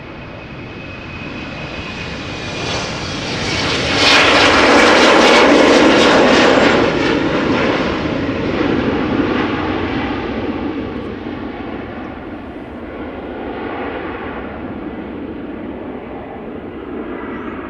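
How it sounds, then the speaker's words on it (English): A KLM Embraer 190 jet departing Amsterdam Schiphol for Leeds: its engine roar swells to a loud peak early on, then slowly fades into a long, receding rumble as the aircraft climbs away, with no voices. "Next up, KLM flight 1541, Embraer 190 outbound to Leeds."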